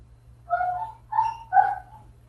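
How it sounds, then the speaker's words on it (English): A dog barks three times in a short burst, fairly close and clear, over a low steady hum on a conference phone line, with no talk during the barks. "I hear a dog."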